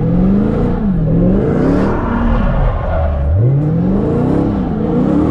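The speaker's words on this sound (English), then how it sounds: "Put on the brake, give it gas, turn the wheel, and then counter steer like I was saying." A car doing donuts roars close and loud, its engine revving in repeated rising and falling sweeps as the driver holds the brake, adds gas and counter-steers, with no talking over the continuous engine noise.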